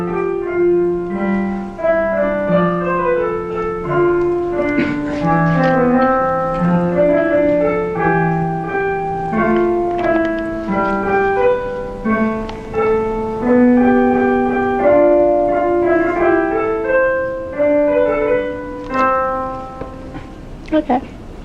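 A MIDI rendering of generated counterpoint music plays as several interweaving melodic lines in a piano-like timbre, steady and continuous for about twenty seconds with no talking.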